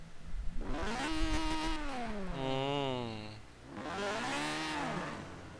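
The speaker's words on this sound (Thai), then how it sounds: "เราฟังเสียงเครื่องยนต์เต็มๆกันดีกว่าครับ" A tuned Mazda RX-7 engine in Forza Horizon 4 revs up and down in smooth, sweeping pitch waves, swelling twice over a few seconds, close and fairly loud.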